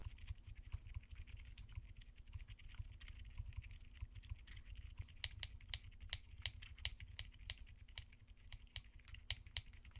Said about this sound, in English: If you're looking for something super subdued from weight to sound level, these silent switches are just what you're looking for.